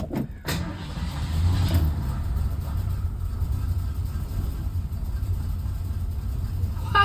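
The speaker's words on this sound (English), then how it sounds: "We're going to start a 1973 Mercury Comet." 1973 Mercury Comet V8 cranking and catching, settling into a steady low idle rumble after a few sharp clicks and knocks at the start.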